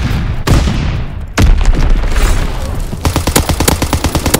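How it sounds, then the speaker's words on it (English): Heavy bomb blasts in the Call of Duty WWII online game: two sharp, booming detonations close together, each with a rumbling tail, then a rapid run of loud crackling gunfire bursts, with no talk. "Enemy bomb incoming! Get to cover!"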